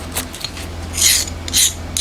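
A file rasps across a hardened homemade camshaft for a 125cc twin-cam 16-valve four-cylinder engine, making two close, loud scraping strokes with quieter rubbing between them.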